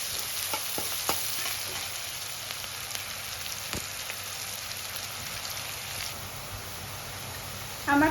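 Onions frying in a pan for egg curry give a steady, close sizzle with scattered crackles and a few stirring clicks, continuing without pause throughout and no talking.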